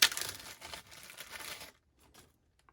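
Packaging for an iPod Shuffle is torn open with a close, busy rustling and crinkling of wrapping for over a second, followed by a few faint handling taps in near silence.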